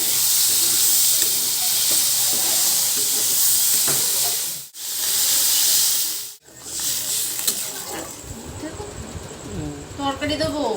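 Food frying in a pan on a home cooking stove gives a loud, steady hiss and sizzle that fills the clip, with two brief gaps, then turns busier with stirring and clatter near the end.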